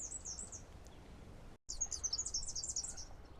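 Birds call in a Tasmanian wetland forest near Devonport, with high chirping phrases repeating over a steady hiss of ambient noise, briefly cut off midway before the twittering resumes.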